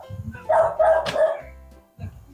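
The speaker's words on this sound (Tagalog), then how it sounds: "Ang ingay ng aso, ano?" A few loud dog barks ring out in quick succession, close by, with faint background noise between them.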